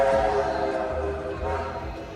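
A loud, droning mechanical rumble with a low rattling clatter as the Millennium Force roller coaster train is hauled up its chain lift at Cedar Point at night, steady throughout.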